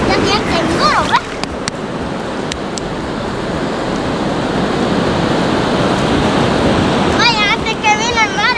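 Ocean surf rolls onto the sand at El Espino beach in El Salvador as a steady, loud roar with wind buffeting the microphone, and excited voices shout over it near the start and end.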